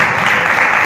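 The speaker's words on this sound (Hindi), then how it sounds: "जोर से ताली बजाएं" Broad, steady applause from a congregation at a Sunday church service fills the moment loudly, without any speech over it.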